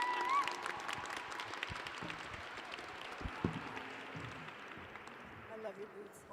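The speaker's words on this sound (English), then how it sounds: "Let's give a hand of applause for our months of guests." Audience applause at an opening-night conference gathering, a moderate wash of clapping with a few whoops, heard somewhat distant and fairly quiet, with a voice briefly audible at the start.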